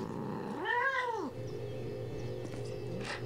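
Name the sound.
cat in the video game Postal 2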